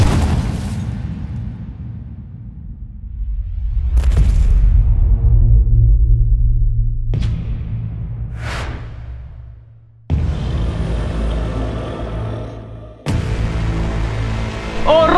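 A Tesla Model S blown up with 30 kg of dynamite, heard as a series of heavy booms and bursts with long rumbling, whooshing decay between them, loud and spread over several separate blasts.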